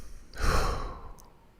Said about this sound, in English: taking a deep breath can sometimes